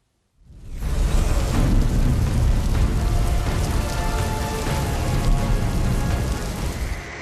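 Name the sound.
heavy unseasonal rain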